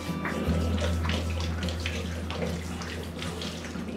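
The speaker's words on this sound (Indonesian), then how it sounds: "Cuci tangan, jangan lupa sabunnya. Di air mengalir," Hands being washed with soap under a running tap: a steady, close stream of water splashes continuously, with rubbing and splashing bursts on top and no talk.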